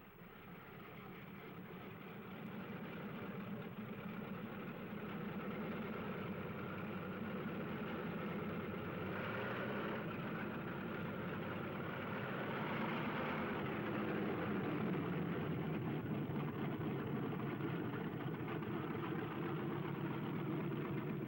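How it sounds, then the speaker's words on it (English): P-47 Thunderbolt fighter engines warming up on an airfield give a steady, faint droning rumble that swells slightly partway through and holds without voices. "On the field, planes warm up."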